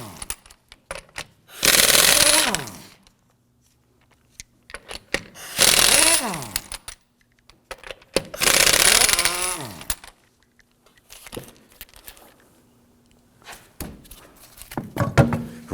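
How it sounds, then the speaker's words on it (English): Lug nuts on a 2008-2011 Ford Focus front wheel are loosened and removed with a 19mm socket on an impact tool, three long loud whirring bursts with rattling chatter, separated by quiet gaps and softer clicks and thunks near the end. "Using a 19mm socket, we're going to loosen and remove the lug nuts."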